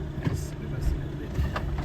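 A vehicle's engine running low and steady while it reverses slowly off-road on soft ground, with faint thumps and bumps and a person talking over it.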